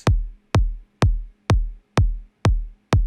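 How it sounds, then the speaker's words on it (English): A dry kick drum sample with no effects plays alone as seven evenly spaced, punchy thumps about half a second apart, each with a sharp click and a short, deep low-end decay. "Let's listen to the kick without"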